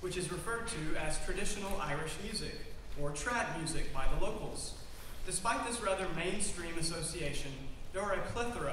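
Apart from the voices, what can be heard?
No everyday noises stand out.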